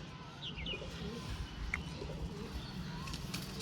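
Faint pigeon coos rise and fall over a steady low background hum, with a few distant chirps.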